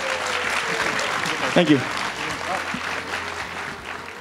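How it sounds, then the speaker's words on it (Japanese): Spectators applaud at an outdoor FIS Alpine Ski World Cup slalom event in Naeba, Yuzawa, Niigata, with steady crowd clapping throughout and a speaker's voice briefly over it. "大きな拍手を送りください。"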